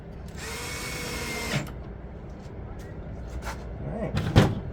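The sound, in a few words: screws driven into an RV fan with a power drill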